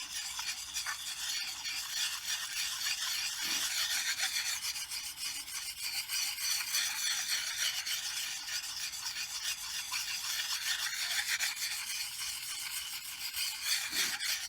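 A steady rasping scrape of a metal file sharpening a steel axe blade, continuous back-and-forth strokes close up, with no talking.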